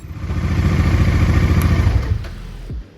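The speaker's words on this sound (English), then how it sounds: "let the motorcycle idle for at least 15 minutes" A Bajaj Dominar 400 motorcycle idles close by with a steady low throbbing rumble, the engine note dropping and fading out near the end as it shuts off.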